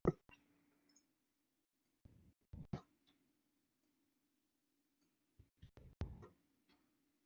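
Mouse buttons click while someone works in the Godot game editor, a few faint, sharp clicks in quick pairs and short clusters, separated by quiet gaps over a low steady hum.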